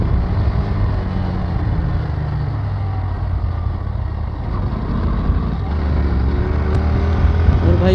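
A motorbike cruising smoothly at about 85 on an open road through barren hills, with a steady, continuous engine drone and wind rush that stays even throughout.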